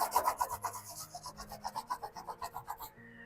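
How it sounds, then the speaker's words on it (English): A car part is hand-sanded with 3000 grit sandpaper, a quick run of about fifteen close, rhythmic rasping strokes that stop abruptly. No one speaks. "I got a little 3000 grit sandpaper, clean out the backside of it."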